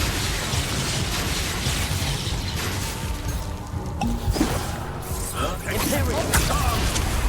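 Bombarda spell explosions in Hogwarts Legacy land amid a dense, noisy battle, with crashing bursts, pops and debris clatter over constant background rumble, and a voice speaks briefly.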